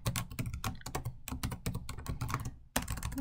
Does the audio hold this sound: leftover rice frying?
no